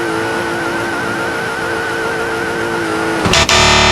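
A Mercedes-Benz car in the BeamNG.drive video game runs an obstacle course, its engine droning loudly and steadily before a sudden harsh burst of distorted noise near the end.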